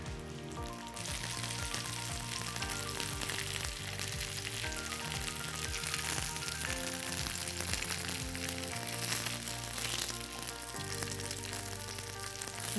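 Sesame-crusted tuna sears in a hot pan with a steady dense sizzle throughout, heard under continuous background music.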